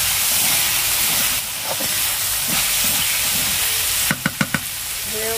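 Bitter gourd chachchari sizzles in oil in a kadai as the oil rises at the edges, a steady hissing bubble throughout with a quick run of sharp metallic clicks near the end.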